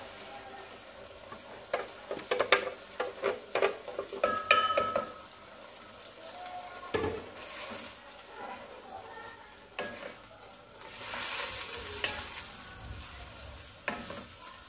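Garlic ginger paste sizzles and fries in a pan while a spoon scrapes and stirs against the metal in bursts, with occasional clatters.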